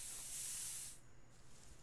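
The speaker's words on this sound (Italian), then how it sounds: "col mio spray al peperoncino verde" A green pepper spray healing item in The Hunter: Primal sprays in one loud hissing burst lasting about a second, then falls away to a quieter tail.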